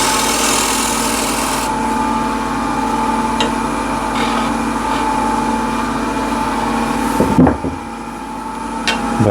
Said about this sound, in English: Back with a spindle gouge.